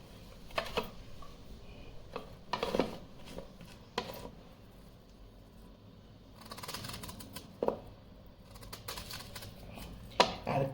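A guava is cut with a knife, giving scattered soft clicks and crisp chopping taps at irregular intervals against a quiet background, with no speech.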